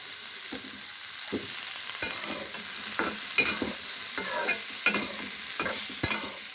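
Cumin seeds sizzle in hot oil in a pan at the start of cooking a rohu fish curry with ridge gourd, a continuous bright crackle with scattered pops and light scraping taps throughout.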